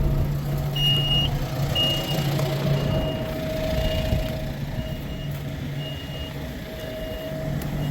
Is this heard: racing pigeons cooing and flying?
no